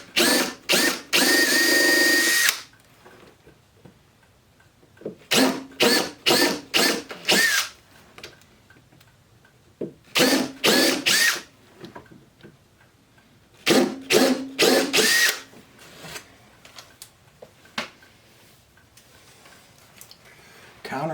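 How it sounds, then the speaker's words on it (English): A power drill drills pilot holes into a wooden cabinet in repeated short bursts, stopping and starting several times with quiet pauses between, close and loud. "I'm just gonna drill some pilots."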